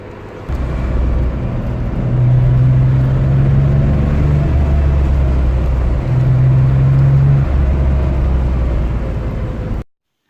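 Air-cooled Porsche 911 Targa engine droning steadily while driving on narrow roads in Canton Lucerne, Switzerland, loud and close, with two rising rev swells as the car accelerates, then cutting off abruptly at the end.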